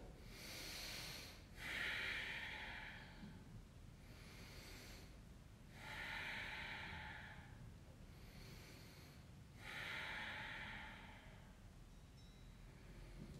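Slow, deep breaths during a yoga pose, long audible inhales and exhales repeating three times in a calm, even rhythm, close and soft with no talking.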